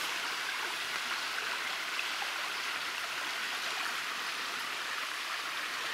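Creek water flowing steadily through a swamp after Hurricane Irma, a continuous rushing, gurgling wash heard close and alone without any talk.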